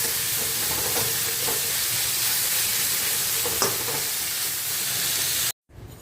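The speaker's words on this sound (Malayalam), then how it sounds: "ഉള്ളി ഇട്ടതിന് ശേഷം നമ്മൾ നന്നായി ഒന്ന് വഴറ്റി കൊടുക്കണം." Onions sautéed in a pan, heard as a loud, steady close sizzle with occasional stirring scrapes that runs continuously and then cuts off near the end, with no talking.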